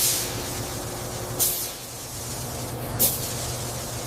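Spray paint hisses in two short, separate bursts against a steady workshop hum as the U.S. Army star insignia is stencilled onto the fuselage of a CH-47 Chinook helicopter.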